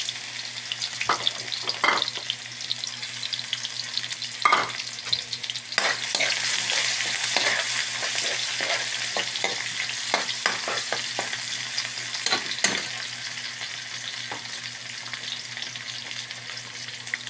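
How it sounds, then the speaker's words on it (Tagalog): Garlic and onion sizzle in hot oil for a pork and liver adobo, with a steady frying hiss and repeated sharp scrapes of a spatula stirring the pan throughout, close and fairly loud. "gisa na tayo ng bawang sibuyas"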